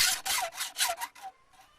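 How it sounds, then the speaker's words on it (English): A hand file in a guided holder sharpens a chainsaw chain, giving about six rhythmic rasping strokes, close and fairly loud, that taper off into quieter scraping near the end. "I've always just kind of eyeball filed chainsaws."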